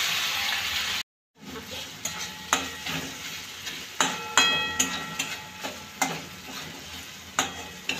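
Tomatoes with green chillies and curry leaves fry for tomato chutney, sizzling steadily in a pan as a spoon scrapes and stirs in regular rhythmic strokes, close-up, after a short silent gap at the start.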